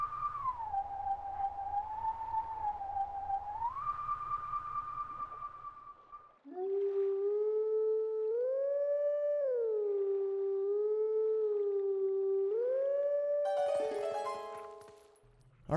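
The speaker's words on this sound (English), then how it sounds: "So we played a new Howling Stone song, apparently" A wolf howls a Howling Stone song in Zelda: Twilight Princess HD, first as a wavering, breathy tone over a pulsing backing, then as a louder, sustained melodic howl that shifts pitch in steps and ends in a burst of chime-like sparkle.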